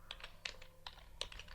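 Code typed on a computer keyboard in a short, uneven burst of close, clicky keystrokes over a steady low hum.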